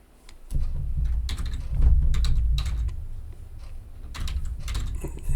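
Computer keyboard typing, a quick run of close, crisp key clicks in irregular bursts over a low steady background hum, no voices.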